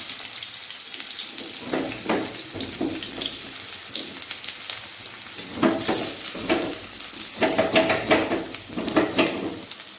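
Sliced onion frying in hot oil in a pan as the base for Bengali aloo dum, a steady close sizzle with scattered stirring scrapes and small bursts of crackle, no voices.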